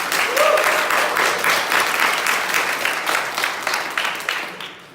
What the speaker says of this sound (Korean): 우리 근식이 이제 박수 한번 쳐줍시다